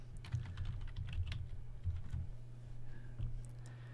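Watermark text is typed on a computer keyboard: a soft, close run of rapid key clicks over a low steady hum, slowing toward the end.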